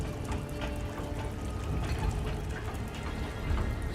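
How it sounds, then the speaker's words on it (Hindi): Floodwater rushing into a coal mine and rising fast, a dense continuous roar and churn of pouring water with deep rumble, loud and close throughout, no voices. "पानी तेजी से बढ़ रहा है"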